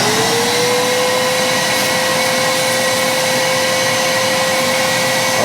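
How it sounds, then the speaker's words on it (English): A vacuum cleaner fitted with a short piece of tube duct-taped to its nozzle runs steadily and loud, a constant whooshing roar with a thin whine that rises slightly at start-up, no voices. "Got a little piece of tube, some duct tape hooked up to the good old vacuum cleaner"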